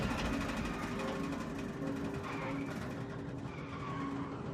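An airliner in a dramatized reconstruction skids off the runway on landing after touching down without its spoilers, giving a loud, sustained roar with tonal squeal-like streaks that fades slightly toward the end.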